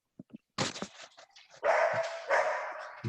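Dog barking indoors, a few short soft yips followed by loud sharp barks and longer yelping howls, close and emphatic, with brief gaps between bursts.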